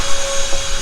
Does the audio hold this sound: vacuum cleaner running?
yes